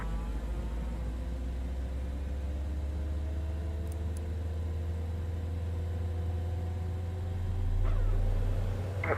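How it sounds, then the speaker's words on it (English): Engine number 2 of a Citation X business jet in Microsoft Flight Simulator spooling up, a steady low turbine drone with a rising whine that swells near the end. "Let's this time start with engine number 2."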